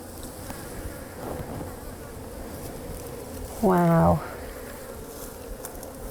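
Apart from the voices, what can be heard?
honey bees buzzing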